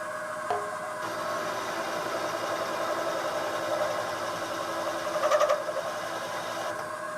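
An annular cutter with slight runout bores into half-inch metal on a slowly turning drill, giving a steady droning whir with faint rattles and a brief squeal partway through.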